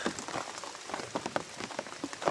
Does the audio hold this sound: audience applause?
no